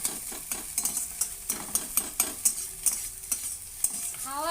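Potato egg bhujia being stirred and fried in a pan: rhythmic scraping stirs strike every few tenths of a second over a bright continuous sizzle, close and clear, no talking.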